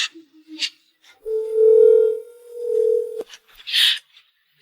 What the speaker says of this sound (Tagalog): Tatawagan ko siya gamit yung cellphone ko.